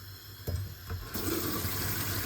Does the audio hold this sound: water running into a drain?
yes